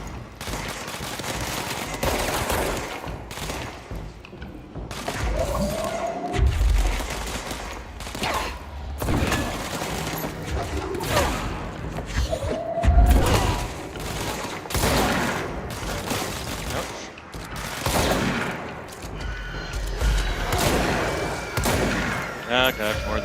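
Sustained gunfire in the video game Control, with dense repeated shots and bursts over a long stretch and heavy booming hits at intervals, under a busy, loud game mix.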